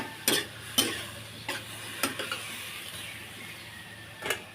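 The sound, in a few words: stirring vinegar and soy sauce into string beans in a pan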